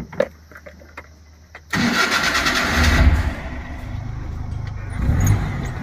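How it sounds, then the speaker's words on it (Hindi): A Maruti Omni van with an immobilizer light fault cranks and catches, its engine firing loudly after a short pause and settling into a rough, rumbling idle with a brief rev near the end. "गाड़ी भी आपको स्टार्ट करके दिखा देते हैं"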